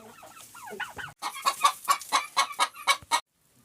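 Hens clucking in a rural farmyard, a rhythmic run of about ten loud, close clucks following some softer earlier calls, then an abrupt stop.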